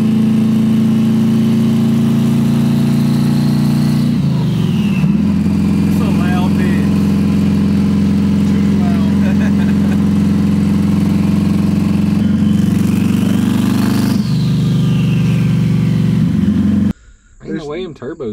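A twin-charged Ford Crown Victoria engine runs steadily and loudly, its rough idle swelling with brief revs near the middle and end before cutting off sharply, with voices talking over it.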